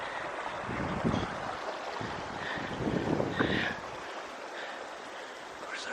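Rushing river water at a crossing on a Himalayan trek in Nepal, a steady broadband wash close by, with brief louder surges and some wind buffeting the microphone.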